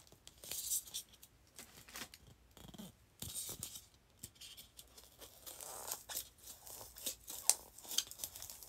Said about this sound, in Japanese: この発泡スチロールをまず丸く削っていきたいと思います。